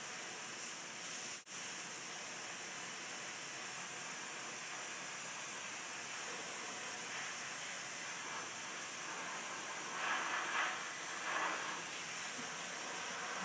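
An airbrush sprays gray paint through a brick stencil taped to a wall, giving a steady, soft, close hiss that runs unbroken except for one tiny click near the start.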